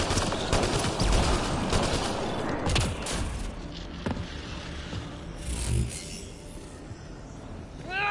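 Turret fire in the game Mass Effect Andromeda crackles in rapid bursts of shots, loudest early then thinning into scattered pops and metallic scrapes, with a brief rising electronic whine at the end.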